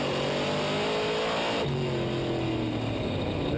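A big-block dirt track race car engine at the Outlaw 200 at Fulton Speedway roars loud and close, revving high, then dropping in pitch as the driver lifts early into a corner, with continuous engine noise throughout.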